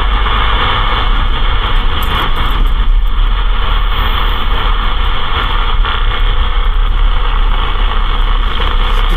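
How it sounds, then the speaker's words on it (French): Sports car engine held in first gear and revved hard, a dense, constant roaring drone with heavy low rumble filling the whole stretch, loud and unbroken, no voices. "Le mec il a un fond de première pour faire ronfler son moteur au maximum."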